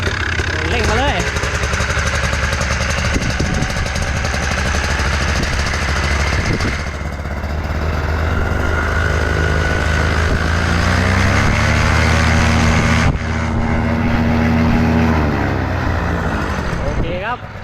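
A Polini Thor paramotor engine revs hard and loud close by, its buzzing pitch rising and falling through several throttle sweeps with a brief dip midway, continuous from start to finish.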